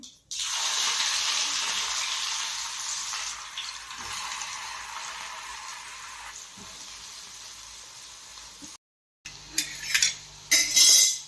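Onion frying in hot oil with mustard seeds for paneer bhurji, a loud steady sizzle that slowly fades, then a brief gap followed by clinks and stirring noises.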